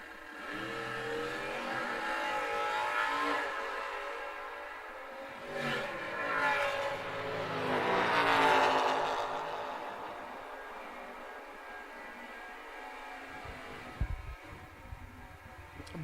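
Drag race cars, one an Oldsmobile, roar off the line at an outlaw series event, engines swelling and fading in a couple of loud passes before dropping away, ending with a sharp knock.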